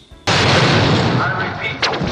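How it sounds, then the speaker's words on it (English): A sudden massive blast from the James Bond film Moonraker erupts after a brief quiet moment, then rolls on as a dense, loud roar of continuous explosions with a second burst near the end. "And then at the end, you've got a shitload of explosions."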